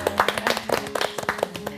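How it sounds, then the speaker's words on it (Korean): A studio audience at a televised job-consulting program breaks into brief applause. The clapping is brisk and close, with many overlapping hand claps. "박수 한번 부탁드립니다"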